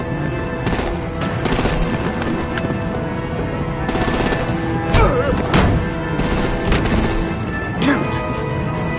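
Heavy artillery and automatic gunfire open up on vehicles in an animated Batman action scene, loud rapid bursts and booming impacts hammering repeatedly for several seconds amid chaotic background noise.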